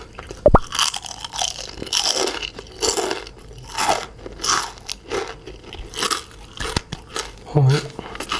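Crispy fried jackfruit leaves eaten with rice at close range, with repeated loud crunching bites and crackly chewing in an uneven rhythm and a sharp click near the start.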